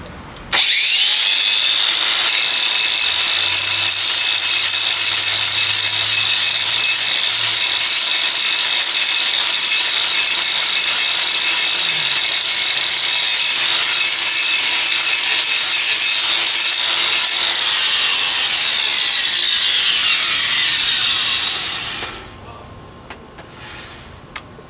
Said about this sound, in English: grinders are loud